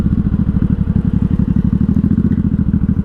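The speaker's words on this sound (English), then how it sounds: "She idles a little low when you rev her, so I don't think it's a problem. It's not shutting off." A 1983 Honda Shadow VT750C engine idles close by with a loud, even, low-pitched thumping pulse that stays steady throughout.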